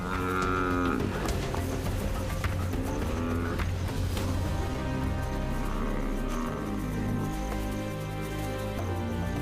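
African buffalo under attack by lionesses in the wild bellow and moan in loud, drawn-out groans over a dense churn of scuffling, thudding and rumbling, continuous and close throughout.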